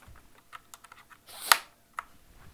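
A Coolmaster mechanical keyboard pulled out and handled, giving scattered light clicks and taps with one louder plastic knock in the middle and a short rustle around it, close by and with no talking.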